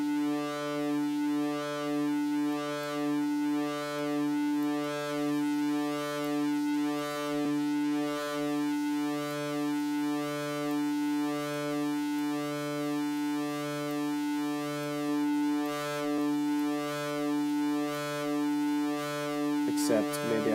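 A sustained synth oscillator tone in a glitch hop production, its distortion tied to the oscillator level, drones steadily with a rich stack of buzzing harmonics and a slow rhythmic pulsing wobble, alone and unbroken, ending in a brief crackle.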